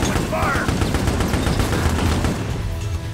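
Sustained rapid automatic gunfire from Resident Evil: Operation Raccoon City, dense overlapping bursts close and loud for a few seconds, with a voice speaking briefly amid the shooting.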